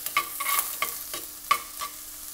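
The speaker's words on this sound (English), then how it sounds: "We're gonna add in our aromatics, so our garlic and shallot, and just saute that for a little bit." Garlic and shallot sauté in a pot with a soft background sizzle, punctuated by a series of distinct clinks and scrapes from stirring at irregular intervals.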